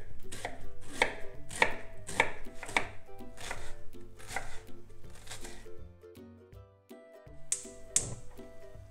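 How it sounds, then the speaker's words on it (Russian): A knife finely chops an onion on a cutting board, rapid rhythmic taps close by, slowing toward the end, with soft music underneath. "Тем временем я беру 1 репчатый лук и нарезаю мелко."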